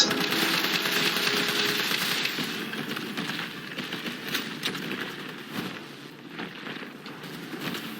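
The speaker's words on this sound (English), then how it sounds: "So I'm going to pull out my assault rifle here." An assault rifle firing in the video game Resident Evil 3 Remake, heard as rapid bursts of crackling shots at modest volume over a busy game background.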